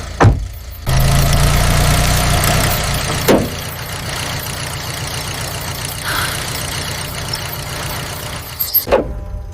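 A car engine is cranked and fails to start, with a steady rough churning rumble that runs for several seconds and then cuts off abruptly, loud and close, with no voices.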